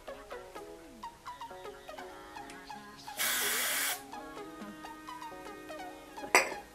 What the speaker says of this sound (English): you just take your hairspray